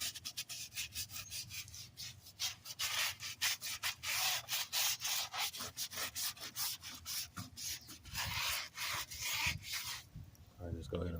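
Brush scrubbing a truck wheel worked with cleaner, a steady run of close, loud rhythmic bristle strokes rubbing against the wheel surface from start to finish.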